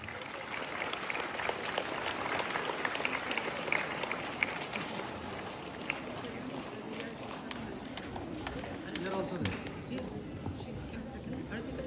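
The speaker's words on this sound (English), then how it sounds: "Give them all good round of applause." A school welcome-back event where students are applauded after winning prizes, with sustained crowd clapping throughout, somewhat distant and muffled, spread evenly with no break.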